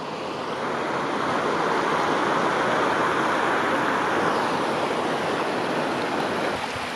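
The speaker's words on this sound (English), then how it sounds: "Creek crossing number 3." A mountain creek at a trail crossing in Yosemite rushes steadily, a dense, even wash of flowing water heard close and loud throughout.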